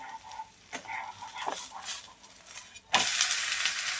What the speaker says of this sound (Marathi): आता याला पलटी करायचं आहे.